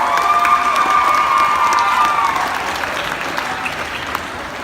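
Students and staff at a Hardin Bulldogs high school pep assembly for the state cross country team clap and cheer loudly in a gym, the applause swelling at first and then gradually tapering off.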